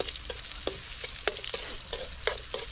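Silver carp sautés quietly in a pan, with a soft, steady sizzle broken by regular sharp clicks and scrapes from stirring, about two per second. No voices are heard.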